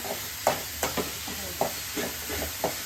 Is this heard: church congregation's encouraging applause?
no